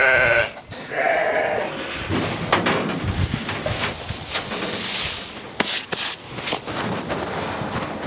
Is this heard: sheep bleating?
yes